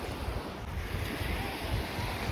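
Ocean surf rolls onto a Konkan coast beach in a steady, broad wash of breaking water, heavily buffeted by wind noise on the microphone, with no voices.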